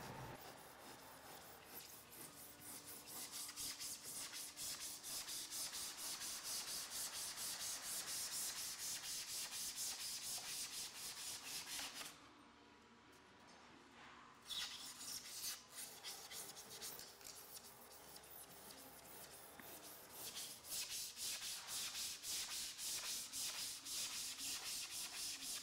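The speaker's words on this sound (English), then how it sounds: "With a handsaw, cut the EPS." Handsaw cutting through the EPS foam of an insulated concrete form, a steady, close rasping rub of rapid back-and-forth strokes with a brief pause midway before sawing resumes, no talking.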